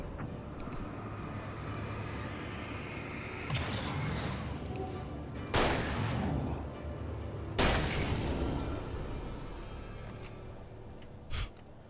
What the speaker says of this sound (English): Enjoy your flashbang.